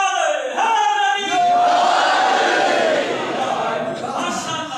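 A large crowd chants a devotional slogan in unison at a religious celebration, voices loud and close, rising into a strong sustained shout and then trailing off.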